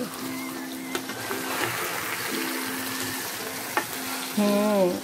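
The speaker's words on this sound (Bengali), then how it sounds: "ওই পাশটা মনে হয় ফ্রাই হয়ে গিয়েছে, আমি এখন একটু উল্টিয়ে দেখছি।" Tuna fish sizzles steadily in a hot pan for barbecue, with a few sharp clicks as the pieces are flipped and a brighter, louder frying burst near the end. Close and continuous, with no talking.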